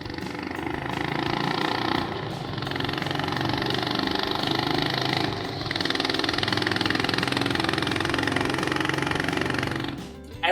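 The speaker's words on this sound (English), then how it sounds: "Honda has shared an audio clip that reveals how this new bike sounds" A new Honda motorcycle engine runs continuously at a steady, loud mid-pitched drone with a slight change partway through. It is heard close, with no voices, and cuts off abruptly at the end.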